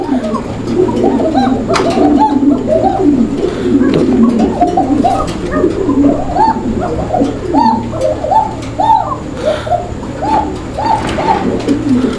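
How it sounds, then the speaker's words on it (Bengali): Repeated soft, hooting coos from koka pigeons, several overlapping calls in a steady rhythm against a constant low background hum. "এই কবুতরটা বিখ্যাত এর ডাকের কারণে"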